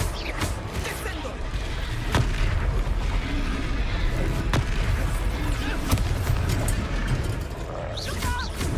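A Descendo spell striking in the Hogwarts Legacy video game, heavy booming impacts and thuds landing amid loud, busy battle noise, with sharp cracks repeating every couple of seconds over shouting.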